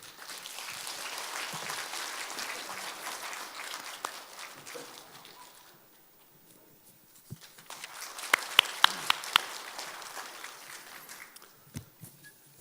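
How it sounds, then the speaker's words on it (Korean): An audience applauds to welcome a speaker at a forum presentation, a moderate wash of clapping that fades out midway, then returns with a few sharper claps before dying away. "박수로서 맞이하겠습니다."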